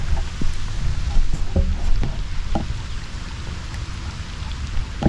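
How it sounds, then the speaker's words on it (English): Heavy rain pours on a body of water during a fishing outing, giving a dense, steady hiss with scattered close drops and soft taps. "it has started pouring on us"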